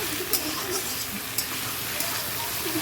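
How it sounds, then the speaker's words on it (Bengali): Sliced onion and a bay leaf fry in hot oil at the start of a mutton curry, making a steady moderate sizzle broken by a few sharp crackles and light stirring. "এখানে তেলের মধ্যে পেঁয়াজ দিয়ে দিলাম একটা তেজপাতা পেঁয়াজ দিয়ে দিলাম পেঁয়াজটা ভালো করে ভাজা হোক"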